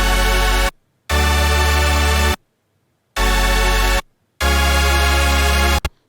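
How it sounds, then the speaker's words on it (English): Melodic dubstep chords built from one saw-wave stack over a sub bass in FL Studio, played as four loud, buzzy sustained chord hits separated by short silences, alone with no talk. "They will be boring because it's basically just one saw stack and a sub below it."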